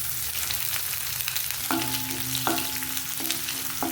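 Crushed garlic sautés in hot oil with a steady, close sizzle and crackle, broken by a few metallic scrapes of stirring, in a home kitchen cooking Tamil cluster beans curry.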